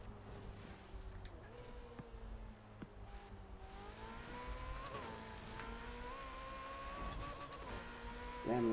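A racing car engine in Forza Horizon 4 revs and shifts through gears, pitch climbing and dropping repeatedly, with a sharp pop near the end.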